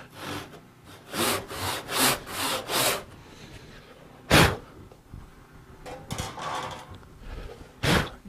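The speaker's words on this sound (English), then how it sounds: "since this rougher cut saw has a wider set, it will widen my kerf" Rough hand saw with a wide tooth set run back and forth through an existing wood kerf, four quick rasping strokes in a row, then a pause, one sharp scrape and a few lighter rubbing passes, close and clear with no talk.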